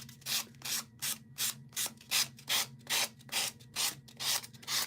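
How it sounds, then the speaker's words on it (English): Rhythmic scraping strokes along the edges of paper card pockets, about a dozen even, close-up passes in a steady back-and-forth cadence, with no talking. "So all I'm doing is scraping off the sides of these."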